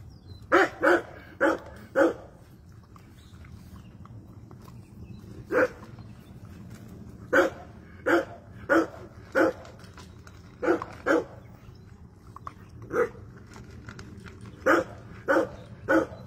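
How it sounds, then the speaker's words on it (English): A dog barks repeatedly in short bursts and clusters of two or three, fairly near, with pauses between volleys and a low steady background hum. "What you barking for, dude? Why you barking?"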